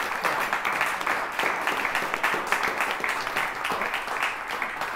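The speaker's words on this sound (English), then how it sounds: "Please give him a nice round of applause." An audience gives a round of applause for a donor at a wind quintet concert, a steady, moderately loud patter of many hands with no break.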